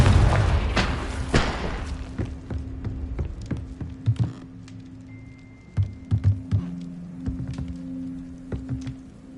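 A Confringo blasting spell detonates in a wizarding video game with a loud booming burst at the start, followed by scattered thuds, smaller impacts and a low hum as the debris settles.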